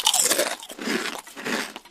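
Potato chips crunched close up in three bursts of loud, crisp biting and chewing, each burst crackling sharply, with no voices.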